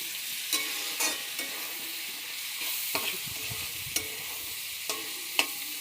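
Chopped tomato being stirred into a frying pan, a steady sizzle punctuated by about eight crisp spatula scrapes and taps against the pan at irregular intervals.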